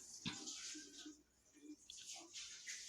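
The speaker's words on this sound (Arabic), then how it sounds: "احنا بنشطف كده بقى ايه بميه عشان تبقى ميه نظيفه" Water splashes and trickles as a marble countertop is rinsed, a soft, steady running wash with scattered drips and light clinks, fairly faint and close, with no talking.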